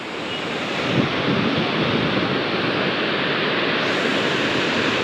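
Water roaring through an opened gate of the overflowing Hamipara village dam, a loud, steady broadband rush heard close by and alone, with some wind buffeting the microphone.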